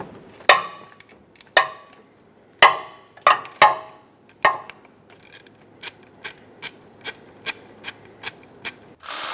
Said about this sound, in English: Using a 14mm socket, remove the front 2 bolts on the engine mount.